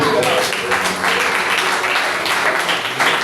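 A church congregation applauds in a sustained, loud wash of many hands clapping, with some voices mixed into the steady roar.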